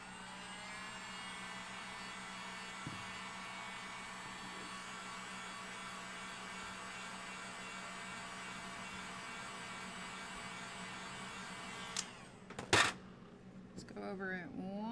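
A hair dryer whirs in a long steady drone, drying pink paint on a coil spring base craft kit, then cuts off near the end with a few clicks and a brief voice after.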